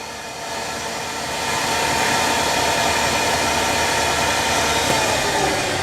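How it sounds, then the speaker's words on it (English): DC motor in an alternator open circuit lab test spinning up, a steady close whine and hum that rises in level over the first couple of seconds and then holds constant. "Right now, my DC motor will start working."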